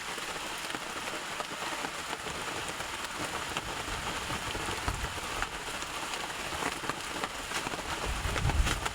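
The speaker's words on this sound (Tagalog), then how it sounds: "Yung kusog ang ulan ka" A sustained downpour drums on a farm, the close, heavy patter of rain on surfaces continuing without pause, with a slight swell near the end and no talking.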